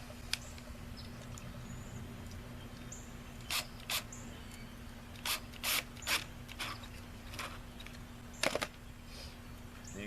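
No-hub clamps on a sump pump check valve are tightened outdoors with a ratchet, giving short bursts of crisp clicking over a steady low hum.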